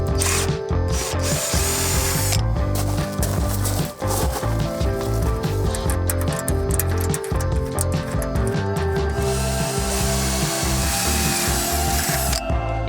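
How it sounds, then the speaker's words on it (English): A power drill whines loudly and almost continuously at close range, with short pauses and grinding bites as it works into material. "So we're gonna have to drill our own holes."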